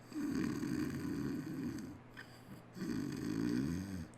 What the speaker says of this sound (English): You hear a sound you're fairly used to hearing in the mid-afternoon, which is the